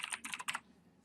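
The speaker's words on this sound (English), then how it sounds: "let's type something." Keys clatter in quick bursts on a computer keyboard while typing into a blank Word document, close and fairly quiet, the rapid clicks stopping after about half a second and leaving near silence.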